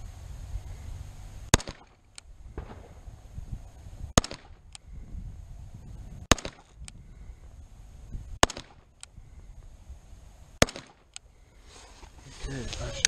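Sharp gunshots from an FNH FNX-45 pistol fired in a USPSA-style speed drill, a few quick separate reports spread over several seconds against low background rumble and some handling noise.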